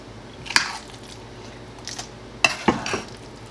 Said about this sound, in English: I'm going to just kind of spoon this in there.